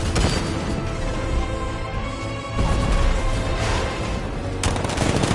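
Tank cannon from Batman: Arkham Knight firing in a dense, loud volley of blasts and booms that carries on without a break under heavy game effects, with no talk over it.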